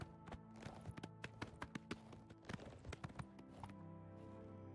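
Horse hooves clip-clopping in The Elder Scrolls: Oblivion Remastered, a fast, uneven run of sharp close hoofbeats over a tonal game soundscape, fading to steady background near the end.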